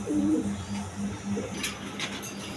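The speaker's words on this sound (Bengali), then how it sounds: "2টা বিগ সাইজের নর কবুতর" Big male pigeons coo in a coop, a close, rhythmic run of low throaty calls, with soft rustling and scuffing later on.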